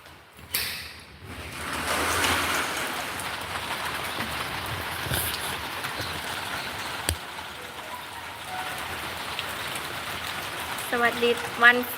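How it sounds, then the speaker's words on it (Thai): Rain falls steadily at Phuket Village, an even hiss of drops on surfaces, with a thump near the start, a sharp knock midway and a voice briefly at the end. "ตอนนี้ฝนกำลังตกอยู่นะคะ ที่ปักเก็ตวิลเลจค่ะ"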